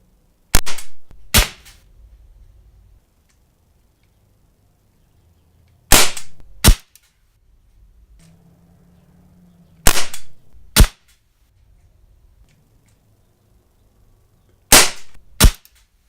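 Handgun fired in four quick pairs of sharp, loud shots, each pair separated by several seconds of near silence with faint handling noise between.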